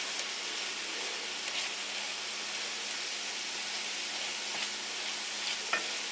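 Taco meat with spices stirred in a pan, a soft steady sizzle and hiss with faint occasional scrapes of the spoon, quiet and close.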